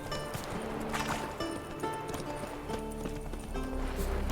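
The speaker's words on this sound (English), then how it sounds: "Idyllic, you might even say. Wild ponies." Wild ponies in The Witcher 3 trot with a steady clip-clop of hooves, broken by a few short neighs and whinnies over a quiet outdoor ambience.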